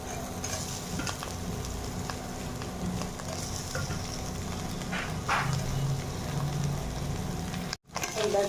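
Onions fry with turmeric and spices in a pan before boiled potatoes go in for aloo chop. A continuous close sizzle runs with light stirring scrapes and briefly cuts out near the end.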